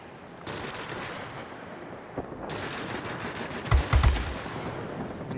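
Continuous gunfire from a military base in an aerial combat video game, a dense steady rattle of distant shooting with a few heavier thumps midway.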